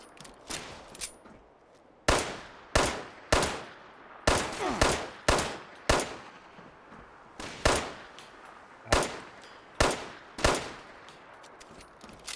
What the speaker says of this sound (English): Oh, this accuracy spread at distance with a pistol.